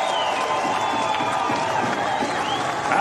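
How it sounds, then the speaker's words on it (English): A crowd at a BKFC bare-knuckle featherweight fight cheers and applauds for the two fighters, a steady, loud roar of mixed clapping and shouting that holds for the whole stretch without a break. "let's have a round of applause for these two featherweight warriors"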